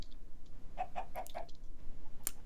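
Chickens in the video game Minecraft give a quick run of four soft clucks in succession, fairly quiet, with a brief sharp click shortly after.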